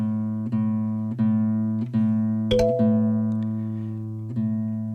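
A plucked guitar string rings out repeatedly, each pluck sustaining as its pitch is tuned upward toward A, with a brief sharp knock midway.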